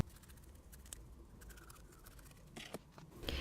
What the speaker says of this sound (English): I'm taking a pair of large scissors and cutting off the bulk of the hair